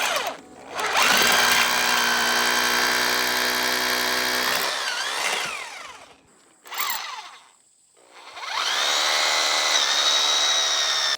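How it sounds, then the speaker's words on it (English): A loud hammer drill whines and grinds into rock in long bursts, pausing briefly between runs, close up and harsh. "Now we're plugging in this hammer drill thing. Should let us drill into the rock."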